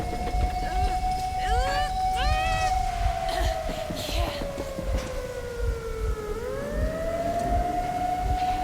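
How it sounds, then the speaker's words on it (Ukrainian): A wailing alarm siren in the video game Metro Exodus holds a steady loud tone, then slides downward and climbs back up, with brief chirping calls over it and a rumbling game background beneath. "тривога лунає в ігрі"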